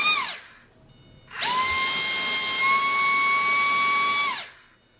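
An electric motor on an ASK-21 model glider whines briefly, spins down, then revs up to a loud, steady high-pitched scream at high throttle before cutting off abruptly, heard up close.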